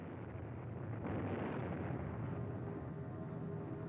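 B-52 bombing of Hanoi in December 1972 is heard as a dense, rolling roar of distant explosions that swells and then stays heavy and sustained, with no voices.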